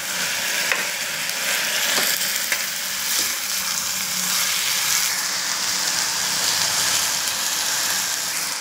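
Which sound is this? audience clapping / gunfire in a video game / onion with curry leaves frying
onion with curry leaves frying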